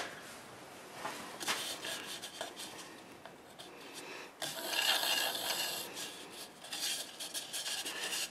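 A negative rake scraper drawn over a wooden bowl gives close, dry rasping scrapes in uneven strokes that swell and fade, with a louder burst midway and no voices.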